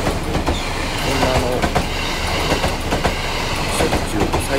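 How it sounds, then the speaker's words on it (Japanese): A train runs along a branch line near high-rise buildings, heard as loud, continuous rumbling with rhythmic clickety-clack of wheels on rail joints and occasional faint squeals, close by and steady throughout. "こうやってたまに電車がスーッと通っていくような"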